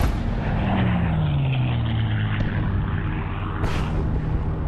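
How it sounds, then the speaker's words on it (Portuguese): Heavy anti-aircraft fire over Blechhammer, Poland, in September 1944, heard as a dense, continuous roar and rumble with a low droning tone sliding downward, like aircraft engines, and a sharp burst near the end. "A quantidade de fogo aéreo é inacreditável. É muito fogo antiaéreo e cortinas de fumaça."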